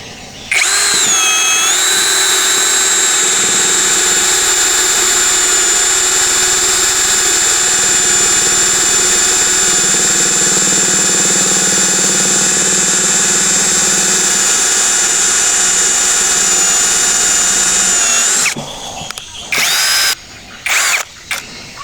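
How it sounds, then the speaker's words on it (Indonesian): A Keelat KCD011 cordless drill spins a larger bit at speed setting 2, holding a loud, steady high whine for about eighteen seconds before stopping, followed by a few short bursts. "percobaan kedua kita menggunakan mata bor yang lebih besar dengan torsi yang kita tambah juga, kecepatan kita buat kecepatan 2"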